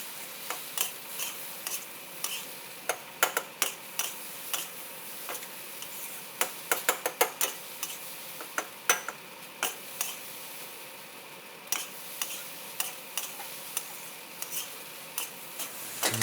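Sticky rice with Chinese sausage being stirred and broken up in a pan: repeated soft scraping and rubbing strokes, close and fairly quiet, in an irregular rhythm with no talking.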